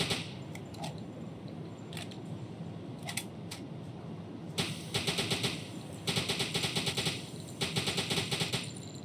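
Rapid bursts of machine gun fire in the U-Boat video game: sparse shots at first, then several loud, sustained rattling volleys near the end, with no talking.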